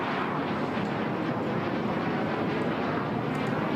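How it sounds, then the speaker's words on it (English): HAL Tejas fighter jet making a slow-speed pass about 500 feet up in front of the stand at the Bahrain Air Show 2016, a steady broadband jet roar that holds loud and unbroken throughout. "مرور على سرعات منخفضة من أمام المنصة، ترى من أمام ارتفاع تقريبا 500 قدم."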